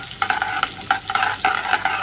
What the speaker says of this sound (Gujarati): લસણ સરખું શેકાઈ જાય